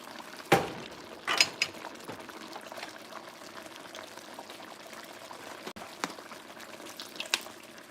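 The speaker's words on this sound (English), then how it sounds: "I'm going to add a little bit more water in here." Water pours into a pot of chicken stew on the stove, with a steady liquid rush and bubbling, broken by a few louder splashes and clinks.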